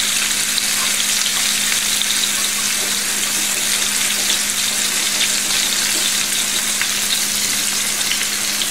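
Roast beef sears in a pan of hot oil, giving a loud, steady sizzle and crackle with small pops throughout, close up and uninterrupted by speech.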